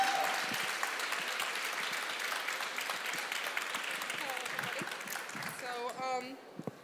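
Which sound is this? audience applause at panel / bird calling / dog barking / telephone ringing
audience applause at panel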